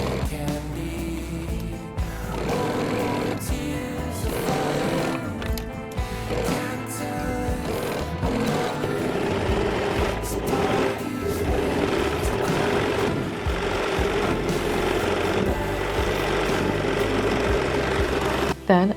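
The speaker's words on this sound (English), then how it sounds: "pin it to the neckline and sew it to the back neck using 1 cm seam allowance" A home sewing machine runs a zigzag stitch, attaching neck binding to the back neckline of a men's T-shirt, with a steady whirring hum that carries throughout under a dense mechanical backdrop.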